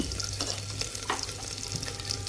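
Ginger, garlic and coriander paste sautéed with onion and curry leaves gives a quiet, continuous sizzle with a few light stirring scrapes.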